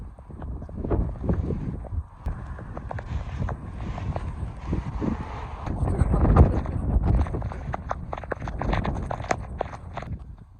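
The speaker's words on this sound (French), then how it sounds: "Il y a un vent de fou qui a commencé à..." Strong, cold wind buffets the microphone during an easy outdoor training run in Paris ahead of the 2024 marathon, a steady roaring rumble with gusts throughout and faint footsteps underneath.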